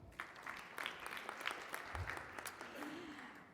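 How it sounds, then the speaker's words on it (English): An audience at an ILO conference on financing social protection claps for a speaker. The applause is faint and scattered, with distinct individual claps and a short voice-like tone toward the end. "Let's give her a round of applause."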